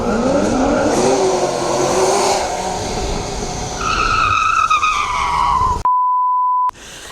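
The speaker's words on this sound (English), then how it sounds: "They're out here doing spinner wheelies and racing in our neighborhood park." Car tires skidding and squealing under a roaring engine as spinner wheelies are pulled in a neighborhood park, loud and continuous, then cut off by a steady electronic beep.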